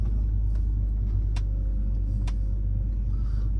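BMW E46 330ci on coilover suspension driving along a road, heard from inside as a steady loud low rumble of road and engine noise with a couple of faint thumps.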